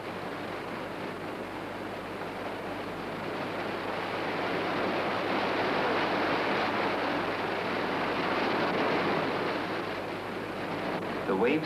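Surf pounds against a rocky Antarctic shore in a broad, steady roar of breaking water that swells in the middle, with wind buffeting and a voice talking over it.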